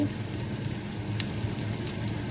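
Jaffna-style egg and tomato rice fries in a pan, producing a continuous close sizzle with faint scraping from stirring and no voices.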